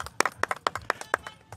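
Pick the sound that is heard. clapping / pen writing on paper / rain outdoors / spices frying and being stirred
clapping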